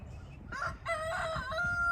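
A rooster crows loudly and close by, its call rising and holding, with hens clucking softly underneath.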